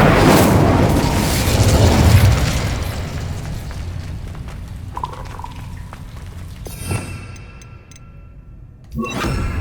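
Casting the Incendio fire spell in Hogwarts Legacy sets off a loud whooshing burst of flame and rumble. It fades into scattered smaller pops and clinks, and a sharp impact lands near the end.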